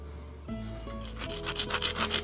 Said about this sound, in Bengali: তো এরকম করে তোমরা ভালো করে ঘষে নেবে, একটু জোরে জোরে ঘষতে হবে